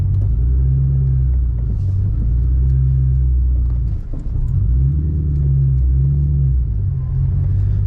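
A Ford Mustang with a 3-valve engine, set up as a drift car, rumbles loud and close through spirited driving, its low drone rising and falling steadily with a short dip midway.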